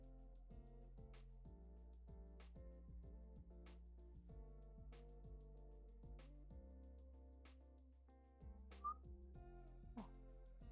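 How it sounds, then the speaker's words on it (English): A person whistles a halting tune with short, faint, repeated notes that keep breaking off, sounding close and quiet in a calm indoor room during puzzle time. "trying to whistle, and it's just not working"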